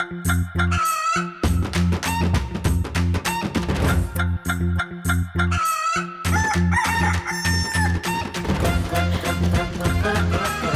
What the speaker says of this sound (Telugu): ఇంక ఇప్పుడు మనం కోడిని పట్టుకుని పరిగెత్తాలి